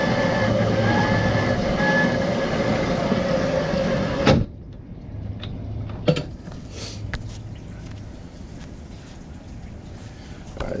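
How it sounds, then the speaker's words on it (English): Razor electric quad bike upgraded with a 1000-watt speed controller on a short test drive, a steady motor whine and rolling rumble that cuts off abruptly, followed by quieter clunks and rattles as it stops. "I just did a little test drive to see if it works."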